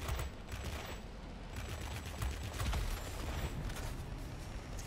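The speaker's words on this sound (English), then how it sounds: "Our guns are overheating." Machine guns on a BV P.210 aircraft in World of Warplanes firing in a steady, dense rattling stream over engine roar, loud and continuous throughout.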